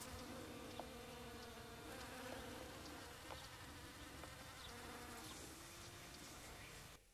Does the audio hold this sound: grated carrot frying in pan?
no